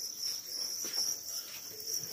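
Large winged crickets at a cricket farm chirp in a steady, shrill, continuous trill that holds at an even, moderately loud level throughout, with faint rustling underneath and no talking.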